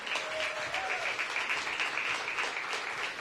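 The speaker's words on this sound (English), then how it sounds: "Let's give him a big round of applause." Audience applause for a senior pastor at a downtown day services center unveiling, dense steady clapping heard at a distance with a brief voice-like tone early on.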